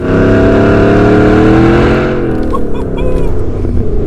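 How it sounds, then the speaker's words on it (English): A supercharged 750 HP Ford F-150 pickup engine roars loudly and steadily as the truck accelerates, its pitch holding high before easing off, with faint voices underneath. "You're getting the Mustang sound, the crazy 0 to 60 with the overhead cams and all the RPMs"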